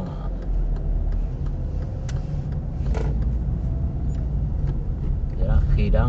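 Car engine accelerating during a driving lesson in Móstoles, a close cabin rumble that swells slightly toward the end, with faint voices in the background.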